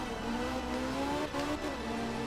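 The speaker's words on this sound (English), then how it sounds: "I'm pretty sure the sounds for the engine on this car is wrong, because it sounds like a 5-cylinder" A rally car in the video game art of rally, its engine giving a five-cylinder-style warble, revs steadily with a rising tone and raspy, continuous drone, loud and close, with a brief lift off the throttle midway.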